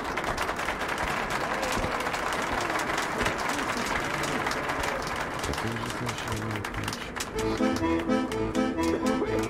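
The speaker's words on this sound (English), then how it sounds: "A round of applause, please." Crowd applause in the video game Metro: Last Light, dense continuous clapping throughout, with a voice speaking over it near the end.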